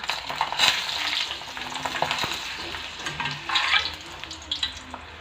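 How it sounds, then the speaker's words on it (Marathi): Rice flour khiche papad fries in hot oil with a close, bubbling sizzle that swells and fades, punctuated by small crackles and a few soft taps. "आपण तेल तापत ठेवलेलं आहे आपण आता हा पापड तेलात सोडलेला आहे"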